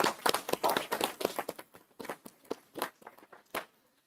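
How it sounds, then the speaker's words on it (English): Brief applause from a modest crowd at a school board meeting: a dense patter of close claps that thins out and fades to a few scattered hits. "We're going to give one last round of applause"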